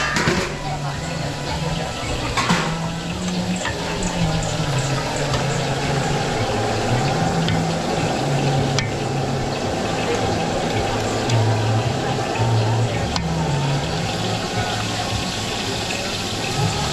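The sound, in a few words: water being poured into a cooking pot for pork kaldereta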